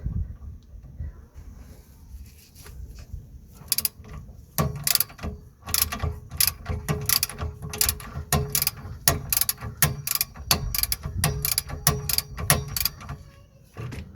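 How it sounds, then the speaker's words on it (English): A ratchet fitted with a 14mm spline socket clicks in quick, uneven runs while undoing the rear brake bolts on a Vauxhall Opel Astra, sharp close ratchet ticks over a low background with no speech. "We're going to be using a 14mm spline socket to undo these two bolts"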